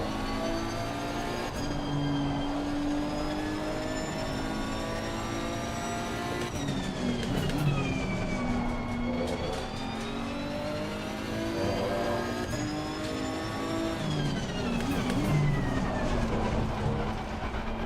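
GT3 race cars lapping Circuit of the Americas in a racing video game, engines droning steadily with rising and falling revs as gears shift, several cars layered together at a constant loud level with no talk.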